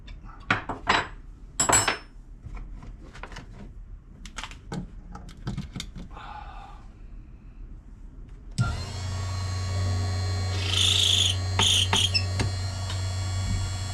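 Chamfer and deburr cutters working rifle brass cases, with close metallic scraping and clinks at first, then a steady motorized whir with light clicks as a case is turned.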